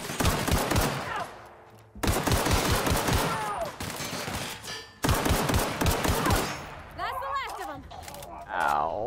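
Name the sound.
light machine gun fire in the video game The Outer Worlds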